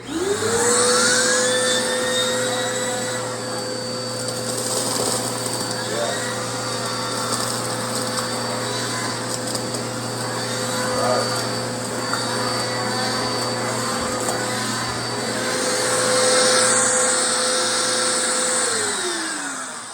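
A Bissell PowerForce Turbo Rewind Pet upright vacuum cleaner, a year old, runs steadily indoors with a loud, continuous motor whine and airflow roar, its pitch shifting slightly as it moves over the floor, with no talking.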